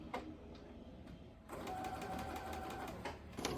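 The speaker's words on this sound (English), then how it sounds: "So just a quick little stay stitch to keep this fabric from moving as I deal with the rest." A sewing machine runs a stay stitch along the edge of fabric, its quick, even mechanical chatter starting in short bursts and then running steadily for about two seconds, close but quiet.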